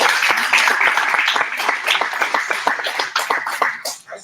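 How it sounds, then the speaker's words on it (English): An audience at Theater Raleigh claps hard during a live Sean Ingram show, a dense, steady patter of many hands that thins out toward the end. "y'all clap your hands for Theater Raleigh"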